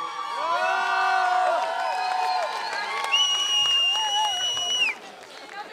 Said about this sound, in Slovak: Mám pocit, že máme potlesk nielen zpredu, ale aj zozadu.